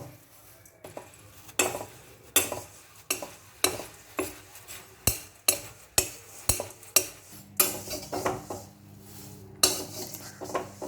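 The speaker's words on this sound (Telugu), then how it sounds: "సో ఇట్లా మనము లో ఫ్లేమ్లో పెట్టుకొని ఇట్లా 5 to 10 minutes ఇట్లా టాస్ చేస్తూ ఉండాలి" Poha is tossed in a pan over a low flame, giving about a dozen sharp metallic scrapes and clinks from a spatula in a steady rhythm, close and fairly quiet, with no voices.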